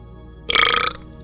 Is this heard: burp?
yes